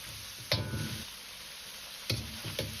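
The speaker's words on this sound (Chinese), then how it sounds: "继续多翻炒几下，一定要炒至酱香味浓郁，五花肉颜色黄亮" Pork belly stir-fried in a wok with red bean paste, chili sauce, cooking wine and dark soy sauce: a faint, steady sizzle broken by a few sharp spatula scrapes against the metal.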